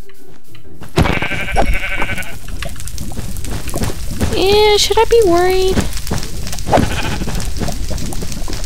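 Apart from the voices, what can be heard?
sheep bleating in a video game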